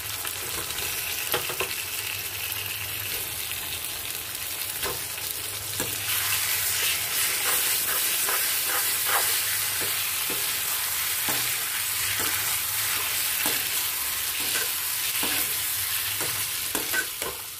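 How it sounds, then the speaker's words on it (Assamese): Boiled potatoes fry in a pan with egg curry masala for an Assamese-style egg curry, giving a continuous close sizzle broken by regular scraping stirs. "সেইখিনি আমি আলু বইল কৰিছিলোঁ, সেইখিনি একেলগে মিলাই ভাজি ল'ম।"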